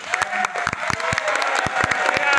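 Steady applause from a crowd at a public political event in Cali, sharp claps filling the whole stretch and growing slightly louder toward the end.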